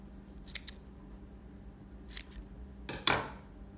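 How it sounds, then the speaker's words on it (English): Scissors snipping through yarn loops on a handmade sock puppet, a few quiet close crisp cuts spaced apart, the last one sharper and louder. "And then I'm going to take and cut all of those loops"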